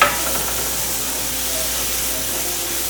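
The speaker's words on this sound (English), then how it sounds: "I'm gonna go ahead and add 1 cup of onions to this mixture and let it go for about 5 minutes" Onions and mushrooms cook down in melted butter in a skillet, giving a steady, soft sizzle and hiss that holds evenly throughout with no voices.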